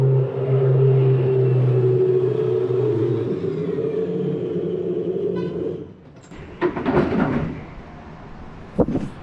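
A Porsche race car lapping a track in Austin, Texas is heard as a distant engine tone that holds, then fades away, followed by a few nearby knocks and clunks.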